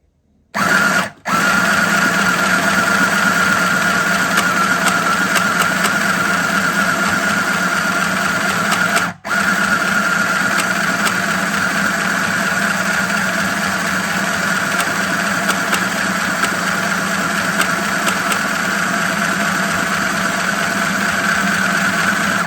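Foot-pedal sewing machine stitching through paper, a steady mechanical whir running continuously and loudly for most of the stretch, broken by two brief stops near the start and midway.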